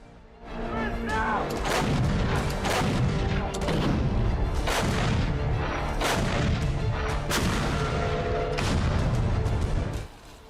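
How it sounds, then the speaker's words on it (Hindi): Heavy artillery cannon fire at the Ukraine border booms repeatedly, with loud concussive blasts spaced a second or two apart over sustained rumbling for about ten seconds. "यूक्रेन बॉर्डर पर गरज रही ये आम पारंपरिक तोप नहीं है"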